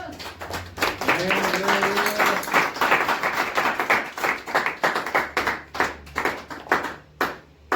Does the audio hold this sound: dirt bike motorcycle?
no